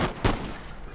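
Musket volleys in Napoleon Total War during a Britain versus Spain battle, a single sharp crack standing out over a dense, rumbling backdrop of distant gunfire.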